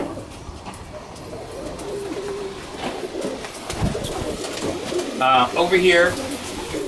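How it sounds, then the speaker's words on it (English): Pigeons coo in an open breeding loft, with soft repeated cooing and a clearer warbling call near the end, heard over steady room noise while a person speaks briefly nearby. "These are birds that I breed, tend to be older birds that I breed in the open loft."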